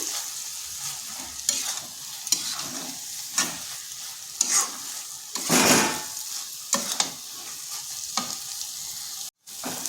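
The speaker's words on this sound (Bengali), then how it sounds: "এখানে দিয়ে দিচ্ছি সামান্য গরম মশলা গরম মশলা দিয়ে এক থেকে দেড় মিনিট একটু ভালোভাবে মিশিয়ে নিচ্ছি" An egg and eggplant curry with garam masala is stirred in a frying pan, steady sizzling broken by regular spatula scrapes and clanks, close and fairly loud, with no voices.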